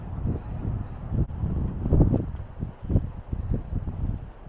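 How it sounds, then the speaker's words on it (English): Gusty wind on a big lake buffets the microphone with low rumbling surges that rise and fall, loud and close, with no one talking, outside a canvas tent at a campsite. "It's really breezy right now. It's super windy"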